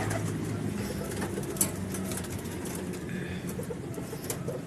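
Pigeons coo softly amid a steady, noisy background hum, with faint rustling and a distant engine drone throughout.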